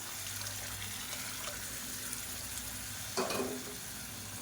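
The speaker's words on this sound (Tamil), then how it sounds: "இப்போ தண்ணி சேர்த்துக்கலாம்." Water is poured into a pan of frying tomato and dal mixture, with a steady sizzle throughout and a brief louder gush of pouring near the end.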